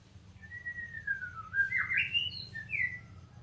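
Magpie-robin (murai) singing a clear whistled song of rising and falling phrases, close and fairly loud over a low steady background hum.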